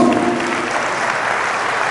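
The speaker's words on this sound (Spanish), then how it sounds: "Fuerte aplauso a Jesús" A Pentecost church congregation applauds, a dense steady wash of clapping at constant loudness, close and filling the space throughout.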